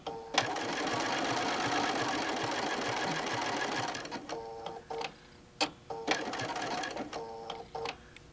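Sewing machine stitching through a quilt, running in a steady close whir for several seconds, then breaking into short bursts of stitching with brief pauses between them.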